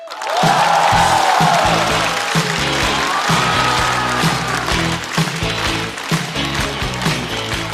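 A stand-up comedy audience applauds and cheers a comedian onto the stage, with loud, dense clapping over rhythmic entrance music that holds steady for several seconds.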